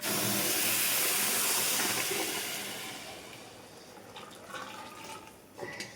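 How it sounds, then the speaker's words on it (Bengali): Boiling hot water poured into rice frying in a pan sets off a loud, rushing steam hiss that fades over several seconds into quieter bubbling and faint kitchen clatter. "গরম পানি একসাথে বলকানা গরম পানিটা অ্যাড করে দিল"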